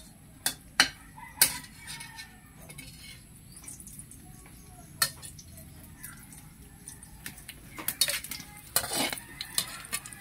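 Faint sizzling under sharp clinks and scrapes of a utensil against a pan, with irregular tapping and stirring sounds close by.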